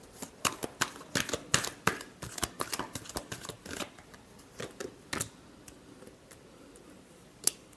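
Tarot cards are riffled and shuffled by hand in a quick burst of crisp, dense flutters, then a handful of sparser snaps and taps as the deck settles, with one sharp click near the end; no one talks.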